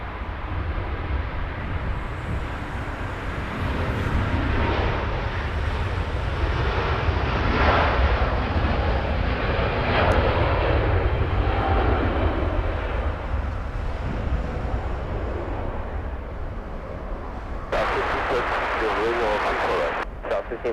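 At Los Angeles International Airport, a jet airliner's engines produce a broad, sustained roar that swells and fades across twenty seconds, with a brief sharper burst near the end.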